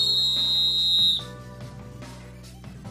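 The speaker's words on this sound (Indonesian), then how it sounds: "wasit meniup peluit panjang" A referee blows a long, loud whistle during a football match, holding one steady shrill tone for about a second before it cuts off, leaving background music and crowd noise.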